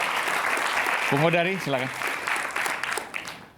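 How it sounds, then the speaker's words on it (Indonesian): Audience applause at a televised gathering, steady and dense throughout, with a voice briefly speaking over it. "Baik, kita berikan tepuk tangan."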